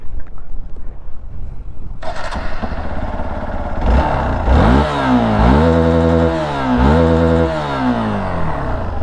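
Hero XPulse 200 motorcycle engine revving up hard from about two seconds in, rising and falling in several loud throttle blips with wind noise, no talking.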